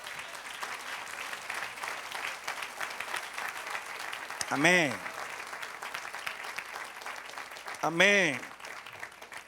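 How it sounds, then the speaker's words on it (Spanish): Congregation applauding for the Lord during a church sermon, a steady crowd clatter with voices calling out twice over the clapping. "Dale otro aplauso al Señor."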